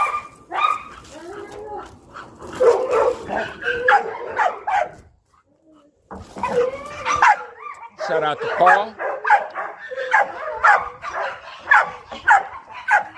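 Several working dogs bark and yap in quick, loud bursts, some close and some shrill, while someone talks over them and a brief lull breaks the noise.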